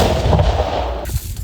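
A mortar fires with a heavy, close blast and rumbling echo, followed a second later by a duller second thump as the sound dies away.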